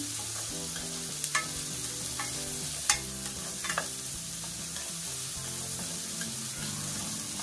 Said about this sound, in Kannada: ಇಷ್ಟನ್ನು ಹಾಕಿ ಚೆನ್ನಾಗಿ ಫ್ರೈ ಮಾಡ್ಕೋಬೇಕು